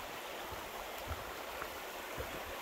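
A river on the Appalachian Trail in southern Vermont flows beside the hiking path, a soft, steady rushing wash heard faintly at a distance, with no voices.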